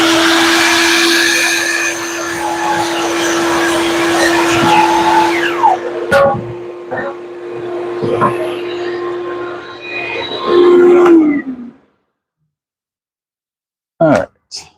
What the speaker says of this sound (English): let me get the vacuum going.